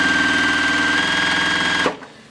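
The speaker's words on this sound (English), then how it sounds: "Now I'm going to continue sewing." A sewing machine stitches quilt binding with a steady, fast mechanical whir and rapid rhythmic needle clatter, loud and close, before abruptly stopping and winding down.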